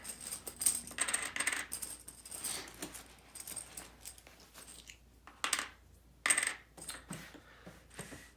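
Game coins for the Coin & Crown board game are drawn from a bag, a steady stream of soft metallic clinks and rustling with a few sharper jingles, close and fairly quiet, no talking.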